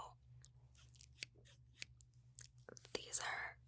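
Scissors handled up close for ASMR make a string of crisp snips and clicks that build into denser rustling near the end, under soft whispering.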